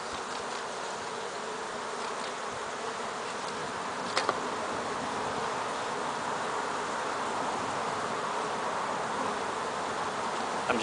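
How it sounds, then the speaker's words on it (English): Dense buzzing of many honey bees crowding a hive frame, a steady close-up drone with faint rustling and no voices. "since there's so many bees on it,"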